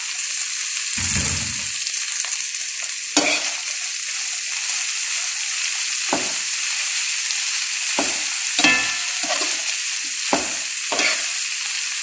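Cabbage is stir-fried in a hot pan for a Filipino-style spaghetti dish, a loud continuous sizzle punctuated by several sharp scraping stirs and tosses of the utensil, heard up close without speech.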